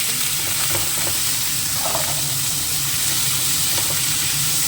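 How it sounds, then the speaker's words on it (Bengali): Potatoes fry in hot oil, giving a continuous close-up sizzle and crackle with light stirring clinks, no voices over it. "এখন লাল লাল করে আলুটাকে আগে ভেজে নেব"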